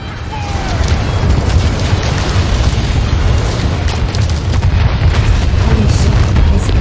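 Heavy weapons fire and explosions in a video game battle, a loud, dense barrage of booms and blasts rumbling continuously for several seconds with no break.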